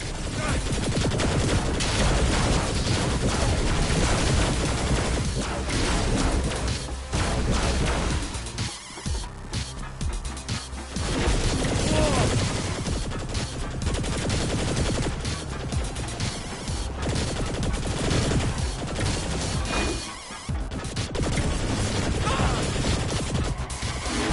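Heavy cannon fire in Saints Row: The Third Remastered, a dense run of booming blasts and crashing impacts that carries on almost nonstop at high volume, broken by a couple of brief lulls.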